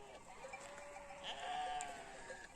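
Faint bleats from goats being herded at sunrise drift in from a distance, a few wavering calls rising over quiet outdoor ambience.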